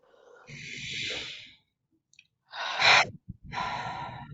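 Slow, deep breaths during a guided forgiveness session: a long inhale, a pause, then a louder, fuller exhale and another long breath, close and alone with no talking.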